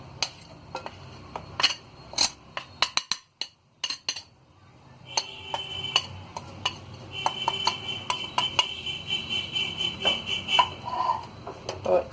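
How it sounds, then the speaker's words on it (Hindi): A spoon mixes chocolate cake batter with sifted flour in a bowl: quick, sharp clinks and taps against the bowl, a brief pause, then a longer run of close-up scraping and rapid clinking. "और इसे चम्मच से अच्छी तरह मिक्स कर लेंगे"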